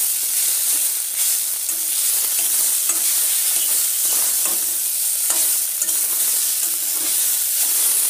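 Food fries with a steady loud sizzle in a pan while being stirred, the spoon scraping in repeated strokes close up over a constant hiss.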